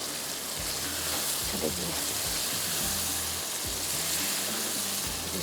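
Minced meat (keema) fries in oil in a pan with a steady, close sizzling hiss, while a voice talks over it.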